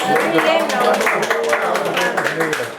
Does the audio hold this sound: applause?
yes